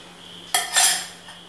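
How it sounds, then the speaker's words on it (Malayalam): A metal pot set down on top of another pot while making a carrot pola cake, a sharp metallic clank followed by a short ringing clatter, close and alone. "മറ്റൊരു പാത്രം അടിയിൽ വെച്ച് കൊടുത്തു വേണം ഇത് മേലെ വെച്ച് കൊടുക്കാം"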